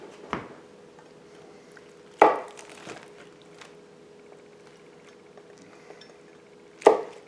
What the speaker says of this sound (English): Let's cut these ribs. Cut them upside down.